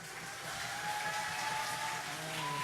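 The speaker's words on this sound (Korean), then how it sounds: "제가 들어올 때 이렇게 많은 박수와 환호 받는 것이 처음인 것 같습니다" Steady, dense applause and cheering from a church congregation at a student service, a continuous wash of clapping held at an even level throughout.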